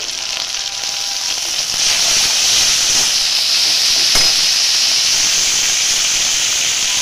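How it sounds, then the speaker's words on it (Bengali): Onion with garlic paste and ginger paste sizzles in hot oil, a loud steady hiss of frying that holds for several seconds with no talking. "আমি আবার ওই তেলের মধ্যে একটু পেঁয়াজ দিয়েছি, আর এটা রসুন বাটা দিলাম, আদা বাটা দিচ্ছি"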